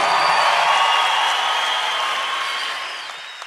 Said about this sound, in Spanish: El aplauso para ustedes